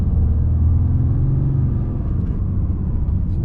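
A 2021 Ram 2500 with the 6.7L Cummins diesel rumbles close and loud in a steady low drone, the engine revving lightly and evenly, with no voices over it.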